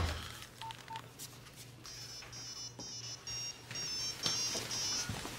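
Telephone keypad dialing tones beep in a quick series of short, faint electronic pips, evenly spaced over a quiet indoor background with no voices.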